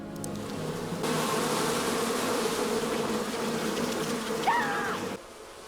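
Swarm of bees droning in a Smallville TV episode, a loud sustained buzz that starts abruptly, holds for about four seconds with a brief rising whine near the end, then cuts off.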